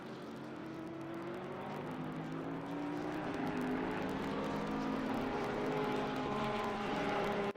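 Ferrari and Porsche GT3 race cars in a sim racing game at Silverstone, their engines droning steadily with rising pitch as they run close together, loud and without talk.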